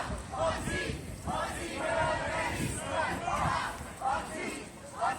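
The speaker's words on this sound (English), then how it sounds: "Crowd chanting right now, police are murderers" Protest crowd on a city street chanting against police killing, a dense mass of voices rising and falling in repeated waves, moderately distant and steady throughout.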